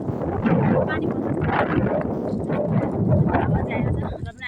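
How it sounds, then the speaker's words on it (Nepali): Wind gusts across a microphone on a road to a market in a Polish village, a continuous rough rumbling buffet that swells and dips, with a person talking faintly underneath. "हावा चाहिँ आएको छ"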